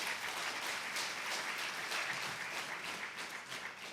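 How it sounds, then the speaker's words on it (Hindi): An audience at a Bageshwar Dham religious gathering abroad applauds with dense, steady clapping, heard at a moderate distance and sustained for about four seconds without speech. "एक बार ताली जरूर बजाओ।"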